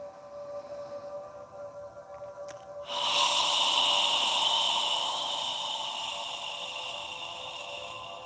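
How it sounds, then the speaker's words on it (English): A slow, controlled exhale through the mouth during a yoga breathing practice, like fogging a mirror: a soft, close breathy hiss that starts abruptly and fades gradually. "exhale through your mouth. As you exhale, imagine you're fogging a mirror with your breath."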